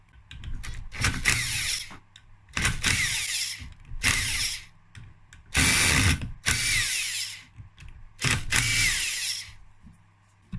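A ratchet loosens the 8mm clutch basket bolts on a seized Gilera SC 125 scooter engine during teardown. About six close, rapid clicking bursts are separated by quiet gaps, and no one speaks.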